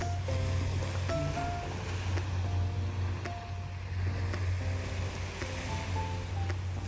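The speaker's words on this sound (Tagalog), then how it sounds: "makikita niyo ang hampas ng alon" Ocean waves break and wash steadily along the shore at a corner of Nongsa Beach Resort, a continuous moderately loud surf roar. Scattered tonal background sounds sit over it, and nobody speaks.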